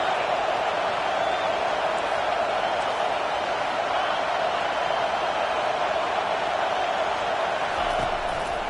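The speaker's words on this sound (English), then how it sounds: "Decibels rising as the crowd gets behind this defense on third down." A steady stadium crowd roar fills a College Football 25 video game during Arizona State versus Texas, loud and continuous without clear peaks.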